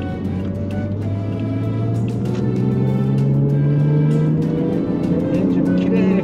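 A Toyota Chaser Tourer V fitted with an upgraded turbocharger revs loud and close, its engine note climbing steadily in pitch through a smooth, continuous pull.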